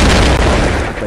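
A bomb blast in the Phục Kích Mobile video game: one loud, dense, close boom that fills the whole short moment and fades only slightly.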